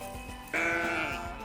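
Goats being tended in a pen in Saudi Arabia, with one loud, close bleat that starts suddenly and holds for about half a second over quiet background shuffling.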